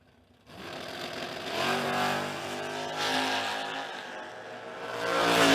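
A Camaro race car at a spring King of the Creek racetrack event roars past, its engine note rising steadily and loudly after a brief quiet start, staying close and building toward the end.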